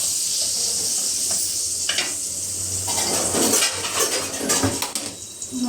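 Onion drops into a pan of ground tomato and cashew gravy and sizzles softly, with a spoon stirring and scraping against the pan in uneven bursts.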